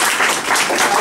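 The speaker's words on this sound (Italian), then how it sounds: "Un applauso a Furio, lo conosceremo adesso." Dense burst of audience applause at an international contemporary art exhibition opening, greeting the artist Furio, loud and continuous for a short moment.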